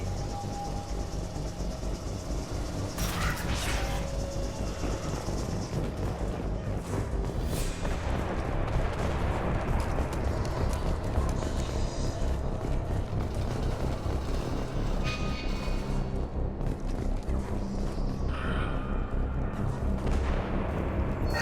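Gunfire in the video game Mass Effect 2: a dense, rumbling battle bed with sharp bursts and cracks scattered throughout, under steady mechanical noise and with no clear talking.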